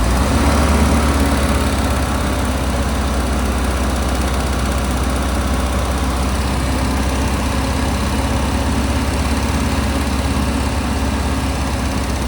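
A 1988 Alfa Romeo Spider Quadrifoglio engine idles roughly after sitting unused for years, a loud, steady, uneven low drone close by with no talking.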